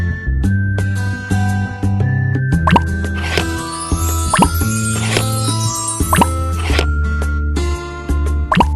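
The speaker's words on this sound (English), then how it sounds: "Add the mixture to the mold." Thick ice cream mixture drops into a mold in a series of close, wet plops and drips, some soft and some sharper, spaced unevenly across the stretch.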